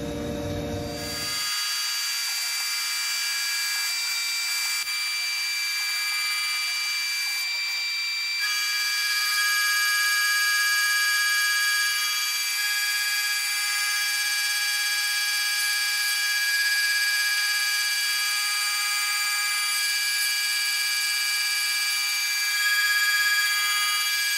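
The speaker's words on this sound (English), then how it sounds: "cutting that big bevel on there" A Tormach CNC mill cuts a big bevel on a heat-treated 4140 steel caliper bracket, giving a steady high-pitched whine with ringing tones that holds for the whole stretch, loud and alone.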